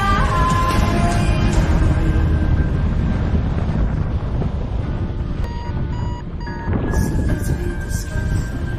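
Steady wind roar buffeting the microphone during a paragliding flight in weak thermals, loud and continuous throughout with broadband rushing and a few faint tonal whines.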